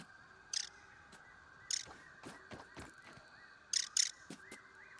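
Harsh bird caws in the video game Grounded, repeating at irregular intervals, a few sharp calls with brief pauses, over a quiet steady background hum and scattered clicks.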